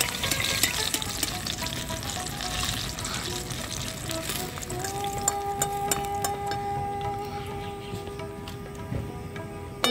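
Homemade KFC-style crispy chicken deep frying in hot oil, a steady crackling bubbling that runs throughout, joined partway by a sustained tonal hum in the background.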